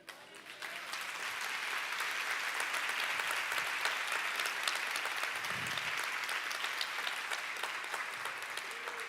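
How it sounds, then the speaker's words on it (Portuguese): Church congregation applauding during a sermon, a dense steady wash of many hands clapping that runs unbroken for the whole stretch, alone without voices. "Você perdeu uma grande oportunidade de aplaudir a Ele."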